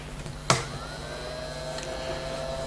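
Enbio S autoclave steriliser running as a quiet, steady hum with faint rising tones, framed by a sharp click at the start and another at the end.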